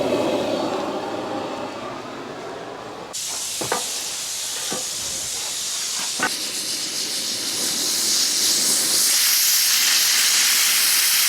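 A pressure cooker cooking beef vents steam in a loud continuous hiss that jumps louder partway through, with a few sharp clicks and rattles, building into a steady rushing whistle with no talk.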